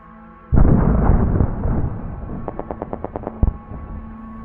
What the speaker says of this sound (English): The explosions are becoming more consistent.